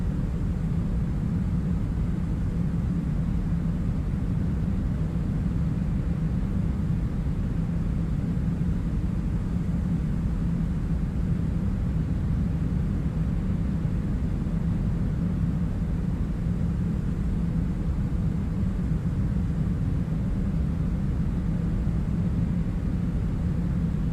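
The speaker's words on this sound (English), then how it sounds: "This plane flies so slow." Steady, broad engine and airflow rumble from a ToLiss A321 airliner in flight in X-Plane 12, a constant low drone with no variation, heard alone throughout.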